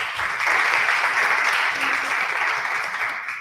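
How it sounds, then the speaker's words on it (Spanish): A burst of applause from a group at a science expo in Nicaragua, loud and close, swelling quickly and then holding steady before tapering slightly at the end. "Elizabeth, démosle un aplauso a Elizabeth."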